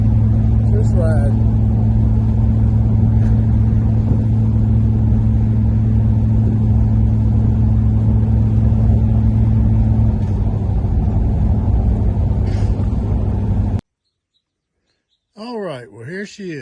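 1989 Chevrolet Camaro IROC-Z with a factory 5.7-liter 350 V8, driven with the T-tops out: a steady low engine drone and road rumble from inside the car, with faint birds, then a brief silence and a voice at the end.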